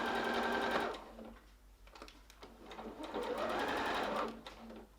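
Sewing machine stitching through a fabric wheat bag, two steady bursts of rapid motor whirring and needle chatter separated by a short pause, close and fairly loud with no talking.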